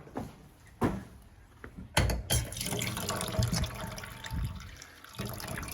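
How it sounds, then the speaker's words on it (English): Water from a central heating system drains through a pipe into a sink, a steady rushing pour with splashy bursts and clatter near two seconds, continuing close and fairly loud. "you've flooded the sink"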